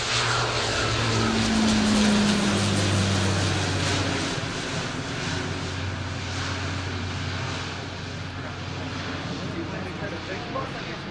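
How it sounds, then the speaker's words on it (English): An Italian Air Force Alenia C-27J Spartan twin-turboprop military transport roars through its takeoff run at an air display, a loud sustained propeller drone with a low engine hum that gradually fades as it pulls away. "the takeoff run of the C-27J Spartan of the Italian Air Force Flight Test Center"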